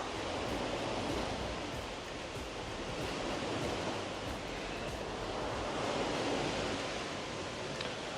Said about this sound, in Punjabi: ਸਮੁੰਦਰ ਦੀਆਂ ਛੱਲਾਂ